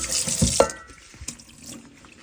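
Tap water runs into a sink while a burned stainless steel pot is rinsed, a close, hissing splash with a few clinks of the pot against the basin.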